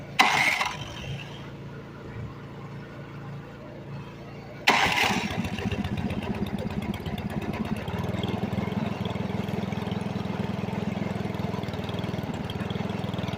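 A snowblower engine catches with an abrupt burst and settles into a loud, steady running drone close by, after a quieter rough stretch before it fires.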